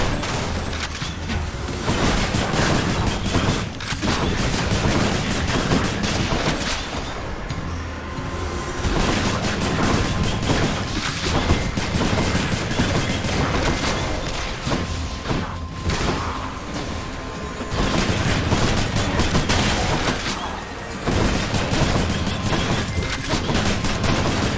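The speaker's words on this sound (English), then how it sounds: "Oh, I fucking hate this gun." Gunfire from a video game weapon fills a continuous shooting session, with rapid automatic bursts, booms and mechanical clatter in dense, loud stretches broken by a few short pauses.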